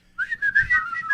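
A person whistles a short, wavering melodic phrase, close and clear, imitating a wrestler strolling out of the ring.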